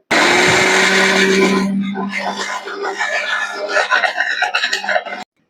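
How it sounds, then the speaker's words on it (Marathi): A mixer grinder blends a jamun drink with sugar, ice, black pepper and cumin powder: a loud motor whine that starts abruptly, drops in pitch as the load settles, then churns roughly with rattling before cutting off. "काळी मिरी पूड आणि जिरा पूड टाकून घेते आणि आता मिक्सरला लावूयात."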